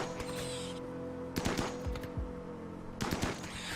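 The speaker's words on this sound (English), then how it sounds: "there's another one being shot" Gunfire in RimWorld: two bursts of rapid shots, one mid-clip and one near the end, over a steady game backdrop with no talk.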